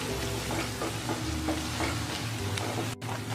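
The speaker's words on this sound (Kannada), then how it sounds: "ಇವಾಗ ಇದಿಷ್ಟನ್ನು ಒಂದು 2 ನಿಮಿಷ ಚೆನ್ನಾಗಿ ಮಸಾಲೆ ಜೊತೆ ಫ್ರೈ ಆಗಬೇಕು." Chicken 65 pieces frying with masala in a pan on a gas flame, a steady close sizzle with soft scraping stirs repeating throughout and no talk.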